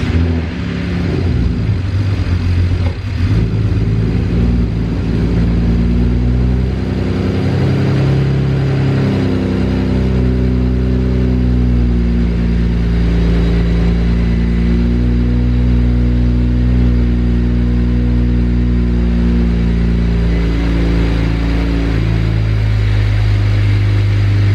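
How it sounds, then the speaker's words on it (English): A BMW E92 that has been sitting a while cranks and fires, then runs with a loud, close engine rumble whose pitch wavers as the idle settles. "I'm about to turn on the car. It might not turn on the first time. It's probably gonna stutter"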